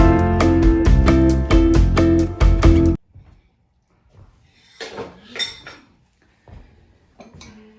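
A fork tapping and clinking against a dish while brushing egg wash onto a Christmas tree pull-apart bread; loud music plays first, then sparse, light clinks sound alone.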